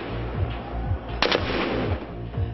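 Gunfire from street gun battles between security forces and protesters in Ukraine, a few muffled bangs and one sharper crack over a rumbling, low-quality background.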